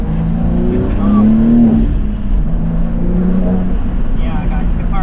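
BMW G80 M3 pulling away and accelerating with traction assist off and a short shift kit fitted, engine note rising steadily through the gears up close, with someone talking over it.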